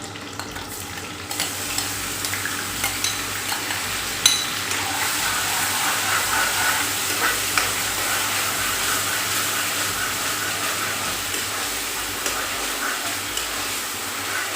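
Chopped onions frying in a little oil, a continuous close sizzle with occasional stirring clicks and scrapes, steady throughout and free of speech.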